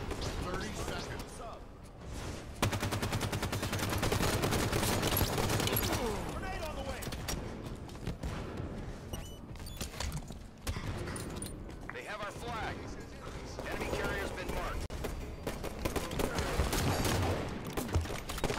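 Rapid gunfire in a capture-the-flag shooter match, bursts of shots crackling continuously across the scene while game announcer voice lines and other voices speak over it.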